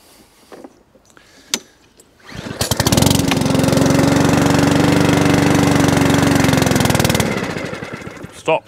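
A petrol lawnmower engine running on ethanol-free fuel starts after a few faint knocks and then roars loud and close for about five seconds before cutting out abruptly, with no talking.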